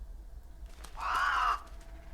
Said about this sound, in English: I've never seen such a huge raven before